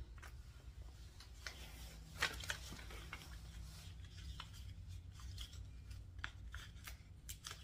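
Kinesio tape being torn and handled while taping a horse's knee, with quiet crisp ticks and rips scattered over a low steady hum, close up and faint.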